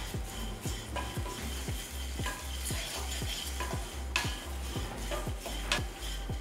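Curry leaves roast in a pan with a steady sizzle while a spoon stirs them, scraping the metal in a regular beat of roughly two strokes per second, close and clear, with no talking.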